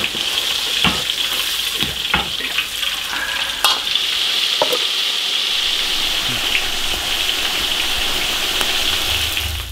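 Leatherjacket fish deep-frying in hot oil in a wok, a loud steady sizzle and crackle with occasional stirring clinks, close up and without talk.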